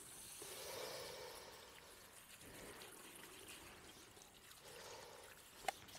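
Water rinsing a car wheel rim after a cleaning product, a faint steady pour and splash with soft surges and a small knock near the end.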